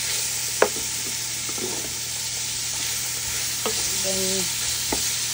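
Carrots and red pepper stir-fried in a pan for pancit give a steady hiss of sizzling oil, broken by scraping stirs and a sharp clack of a utensil. A voice briefly speaks.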